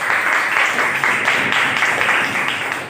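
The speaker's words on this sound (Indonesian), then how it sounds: "Jadi kita berikan apresiasi untuk kita semua dengan tepuk tangan ya" A classroom of students applauding after group presentations, dense continuous clapping from many hands at close range, steady and loud for the whole few seconds.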